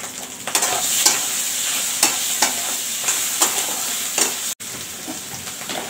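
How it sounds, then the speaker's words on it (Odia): Spice masala of chili and coriander powder fries and gets stirred in a pan for chole, with a continuous close sizzle and regular scraping strokes of the spoon against the metal. "ମସଲାଟା ଭାଜି ହେଇଗଲା।"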